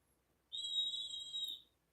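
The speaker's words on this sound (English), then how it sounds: "has a whistle, so they doing the whistle up and down outside" Kids outside blowing a whistle, a single faint, distant high-pitched tone lasting about a second, with quiet background before and after.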